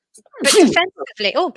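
A single sharp sneeze bursts out close to the microphone, and someone talks right after it.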